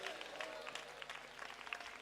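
A church congregation claps together during a sermon, producing a faint, continuous rattle of many hands that runs steadily throughout, with a voice faintly present alongside.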